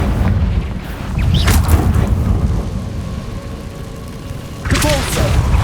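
A Confringo blasting spell goes off in the video game Hogwarts Legacy, sending out deep, rumbling booms with a second burst near the end, set against the continuous low roar of battle.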